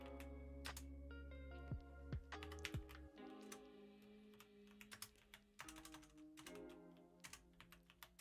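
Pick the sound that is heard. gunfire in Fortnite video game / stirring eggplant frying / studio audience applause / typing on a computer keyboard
typing on a computer keyboard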